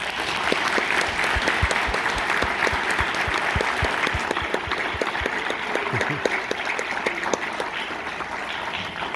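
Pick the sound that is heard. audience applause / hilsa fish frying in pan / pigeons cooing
audience applause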